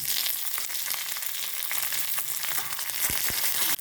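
Steady crackling sizzle of curry leaves frying in hot oil with mustard seeds, urad dal and dried chillies, close and continuous, with a couple of brief low pops near the end.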